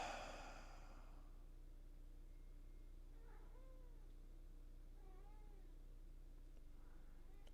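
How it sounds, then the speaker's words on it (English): A hungry pet cat meows a few times at moderate distance in a quiet room, short rising-and-falling cries spaced a second or two apart after a brief burst of noise. "I am going to feed my cat because she won't stop meowing"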